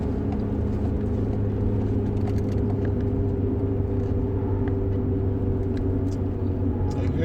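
A car being driven on the road, heard from inside as a constant loud low engine and road rumble that continues unbroken throughout, with no talking.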